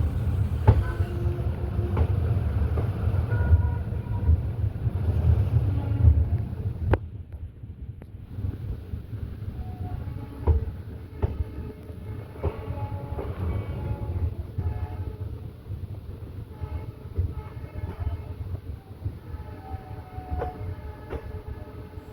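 A diesel train rumbles steadily as it pulls away from the platform at Kollam Junction, with a sharp horn-like burst early on and clicking wheel sounds from the rails beneath.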